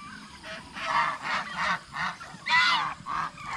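Farm ducks honk in a string of about seven loud, close, nasal calls with short gaps between them, and no one talks.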